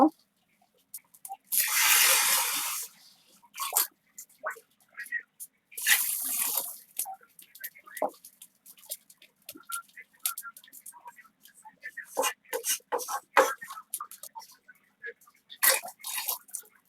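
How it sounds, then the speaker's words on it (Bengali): Water is poured from a mug into a pot of lightly fried rice and lentils for khichuri, several separate bursts of splashing pour with pauses between, close and clear, interspersed with quiet clinks and soft talk. "তা আমার চালটা হালকা একটু ভাজিয়ে নিয়েছি আমি পানিটা দিয়ে দিব"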